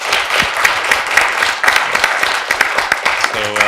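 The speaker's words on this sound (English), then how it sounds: "let's have another round of applause for a great moderator" Audience applause for a panel moderator at the close of a university panel event, a dense burst of many hands clapping that stays steady and fairly loud, with some speech mixed in near the end.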